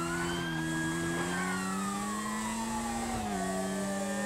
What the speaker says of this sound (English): That siren almost killed me.